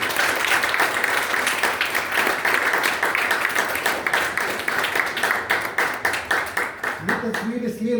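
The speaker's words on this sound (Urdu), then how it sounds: "لیکن اب تالیوں کی جو آواز ہے مجھ تک پہنچنی چاہیے" An audience in a lecture hall claps together loudly and steadily, a dense wash of many hands that thins into separate claps near the end as voices and a low tone come in.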